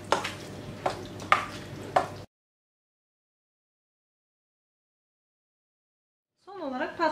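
Yogurt with a little salt is mixed for an eggplant salad in a few quick scraping strokes, followed by a long silence and then a brief voice at the end.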